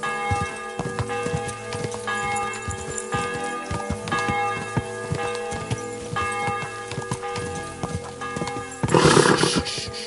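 Rhythmic hoofbeats of a horse clip-clop at a gallop alongside ringing, bell-like music in Kingdom Come: Deliverance II, ending in a brief burst of noise.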